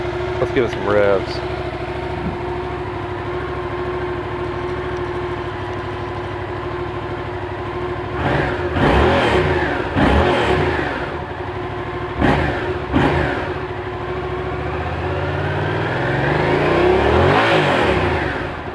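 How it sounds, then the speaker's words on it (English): A 2015 Yamaha FZ-07 motorcycle engine idles with a steady throb, then revs sharply several times in quick bursts, climbing and falling in pitch, before a final longer rev. "Let's give it some revs."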